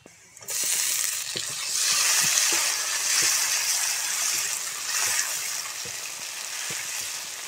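Tomato hits hot oil with fried onion and garlic, bursting into a loud, steady sizzle after a brief quiet start, while a spoon scrapes and stirs at irregular intervals; no one speaks.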